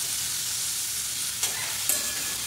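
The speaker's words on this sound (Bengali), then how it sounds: "আমি এখন আলু পেঁয়াজ ভাজা করছি" Potatoes and onions fry in a pan with a continuous close sizzle, broken by two brief scraping stirs.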